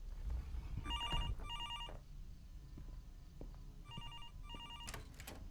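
An old telephone rings in the Fears to Fathom horror game, giving two pairs of trilling bell bursts separated by a pause, with soft footsteps and low ambient rumble underneath.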